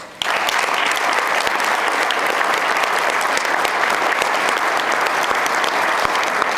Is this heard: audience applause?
yes